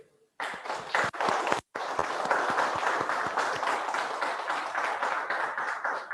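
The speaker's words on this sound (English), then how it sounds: "Please give a big round of applause to my partner, Maxpine Turkey CEO, Yusuf Ashe" Audience applause at a Maxpine Turkey launch meeting welcoming the company's CEO: many hands clapping begin abruptly after a brief silence, break for an instant, then carry on as a dense, steady round.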